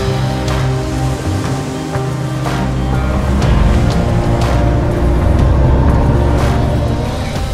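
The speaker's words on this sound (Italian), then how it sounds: "vedere il mare, un'altra di quelle forze della natura che ha su di noi un fascino incredibile, specialmente il mare burrascoso" Stormy, powerful sea surf roaring in a loud, continuous broadband wash, with repeated surges of breaking waves close by and no voices.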